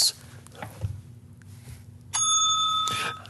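A digital bell rings with a bright, sustained metallic chime, struck once and ringing clearly for about a second amid low room noise.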